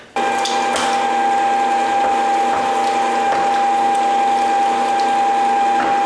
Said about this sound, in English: we're gonna send it through the grinder in a minute